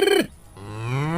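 A cartoon buffalo gives a loud, drawn-out moo: a short low call, then a brief pause, then a long rising bellow that carries to the end, with no talking over it.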